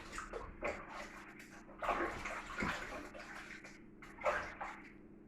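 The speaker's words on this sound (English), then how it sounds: "so I'll wash my hands" Hands being washed under running tap water in a home kitchen while making homemade butter, a steady splashing rush with brief louder bursts as the hands move, moderately close and with no talking.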